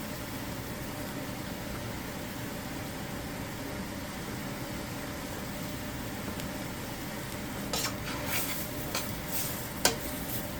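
Vegetables and venison sautéing in a pot, heard as a steady soft sizzle close by, with a few clinks from stirring near the end.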